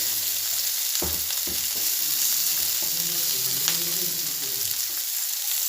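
Beef crackles and sizzles as it fries, submerged in hot oil, for a Kerala-style beef chilli. A loud, continuous hiss sits close up, with a few stirring knocks and scrapes and no voices.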